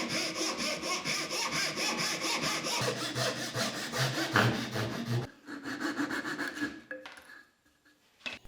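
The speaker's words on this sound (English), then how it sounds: "I took the 90-degree side of my dovetail guide and sawed to my lines." A hand saw cuts a notch in wood against the 90-degree side of a dovetail guide, giving close, rhythmic back-and-forth rasping strokes for about five seconds, then softer scattered scrapes and handling noise.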